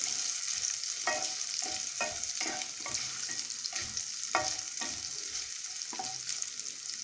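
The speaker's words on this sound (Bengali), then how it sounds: "আলুগুলো ভাজতে একটু সময় লাগবে।" Potatoes frying in a pan for Bengali-style ghugni, a steady loud sizzle with repeated scraping stir strokes spaced through it, close up with no talking.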